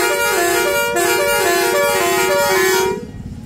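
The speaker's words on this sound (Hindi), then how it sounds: "ये इसका रूट सोरंग की आवाज़ है।" Truck horn sounded in a long musical pattern, a loud close-up sequence of repeated two-tone honks in steady rhythm, cutting off near the end with engine rumble beneath and no talk.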